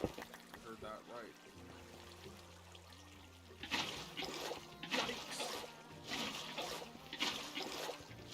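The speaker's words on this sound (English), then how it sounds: "Time to very strategically place water." Water placed in the Minecraft video game, a run of rushing, trickling water bursts in the second half, following a stretch of quiet talk and game background sound.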